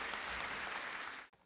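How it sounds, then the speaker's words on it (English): Warm applause from a school assembly audience at a distinguished alumni hall of fame event, full and steady clapping that cuts off abruptly near the end, leaving brief quiet. "Let's give him a round of applause."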